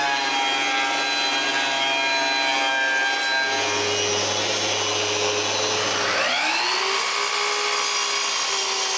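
Power tool cutting pieces of wood for stair rails, a loud continuous whining drone that shifts in pitch midway and then spins down and back up, with no talk.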